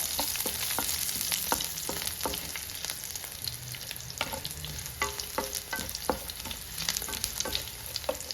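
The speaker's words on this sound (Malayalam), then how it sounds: "വറ്റൽ മുളക് മൂത്തിട്ടുണ്ട് നമുക്ക് പച്ചമുളക് ഇട്ട് കൊടുക്കാം കറിവേപ്പില അതും കൂടെ ഇട്ട് നന്നായിട്ടൊന്ന് ഇളക്കുക" Dried red chillies, green chillies and curry leaves stirred in hot oil for Kerala-style cabbage mezhukkupuratti, a steady frying sizzle with repeated sharp scrapes and taps of the spoon against the pan, close and alone.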